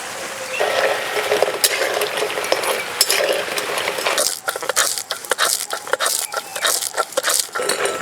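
Pumpkin leaf fritters coated with sesame fry in hot oil, a steady close hiss and crackle broken by the scrape and clink of a utensil stirring, with no talk.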